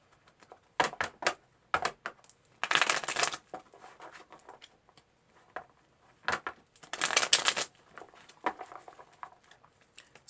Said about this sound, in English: let me do a little quick shuffle real quick